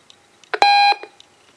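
Discovery Kids alarm clock giving a single short electronic beep tone, clear and close, framed by a few small clicks and handling noises in an otherwise quiet room.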